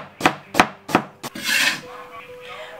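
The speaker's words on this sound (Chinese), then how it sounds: "生姜切成片" Fresh ginger sliced with a kitchen knife on a cutting board: four crisp, evenly spaced strokes, then a short scraping slide across the board, close and clear with no talk.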